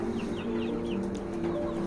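Chickens cluck and chirp in a poultry flock being vaccinated against Ranikhet disease, with repeated short calls over a steady low hum and no speech.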